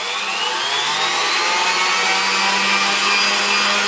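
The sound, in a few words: stand mixer whipping meringue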